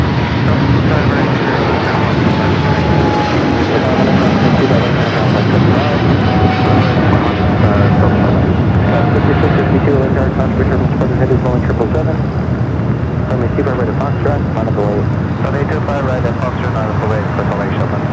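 Turkish Airlines jet rolling down runway 25 right for takeoff at Los Angeles LAX, a loud sustained engine roar and broadband rumble building and holding steady from start to finish, with radio chatter faintly mixed underneath.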